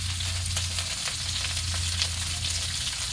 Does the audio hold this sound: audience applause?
no